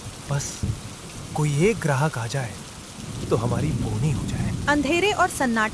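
Heavy stormy rain pours steadily at night beside a roadside pizza cart with a tandoor, a constant hiss running beneath a voice talking throughout.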